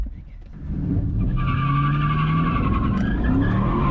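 A 2012 Chevrolet Camaro SS spinning its tires, a rising engine roar joined by long, loud tire squeals that build after a quieter start and hold to the end.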